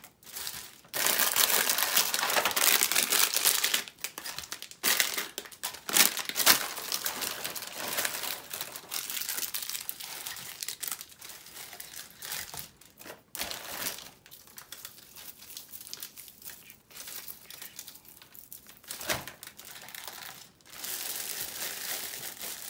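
A crinkly plastic bag is handled around a candy-filled pot, giving continuous close crackling and rustling with short pauses and bursts of louder crumpling throughout; no voices.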